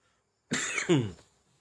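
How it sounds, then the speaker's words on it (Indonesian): One short, sharp cough, close and clear, following a moment of silence. "terlalu banyak minum air dingin ya, jadi batuk karena cuaca panas"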